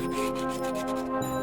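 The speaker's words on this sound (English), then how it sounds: "One thing I forgot was to sand the edges after I sealed them" Sandpaper rubbing along the sealed edges of a wooden book display, a steady close scratchy friction with faint tonal hum in the background, no talking.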